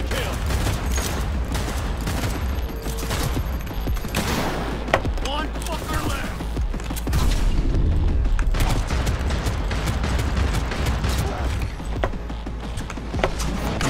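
Rapid pistol gunfire in Cyberpunk 2077 cracks out in repeated shots and short bursts through a dense, loud game mix, with a voice occasionally talking over the action.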